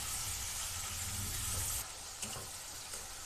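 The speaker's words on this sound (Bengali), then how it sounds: "এই গ্রেভিটাকে ভালো করে কষাতে হবে" Gravy of tomato paste and spices sautéed in a pan for Bengali katla fish kalia, giving a steady close sizzle that drops to a softer hiss partway, with a brief clink of stirring.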